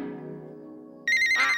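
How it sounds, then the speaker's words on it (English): Cartoon telephone ringing: a steady electronic ring that cuts in loudly after a stretch of low sustained tones, with bright repeated trilling pulses, close and alone. "I hear ringing, but what could it be?"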